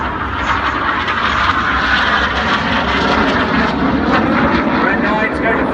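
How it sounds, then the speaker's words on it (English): RAF Red Arrows display jet roaring overhead at an air show, a loud continuous engine rush that holds steady throughout. "Look left now, a lone jet with his smoke on."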